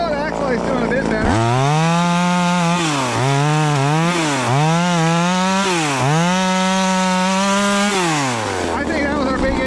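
A cheap $80 chainsaw with an overly tight chain runs close and loud, its engine revving up and down several times in an uneven, straining whine before dropping back to idle.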